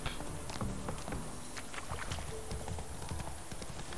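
Horse hooves clip-clop steadily in The Witcher 3 video game, a rapid continuous patter of footfalls at close range over a dense ambient bed, with no voices.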